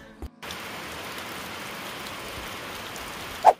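Steady rain falls on a surface around a barn home build, a constant dense patter that holds throughout after a brief quiet start, ending with a short louder knock.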